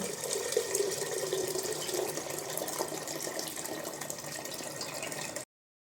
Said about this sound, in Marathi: आता आपण भगुण्यामध्ये पाणी टाकून घेऊ